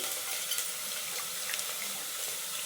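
Coriander leaves are rinsed under a running kitchen tap, giving a steady, fairly quiet splashing hiss of water into a sink with no voices.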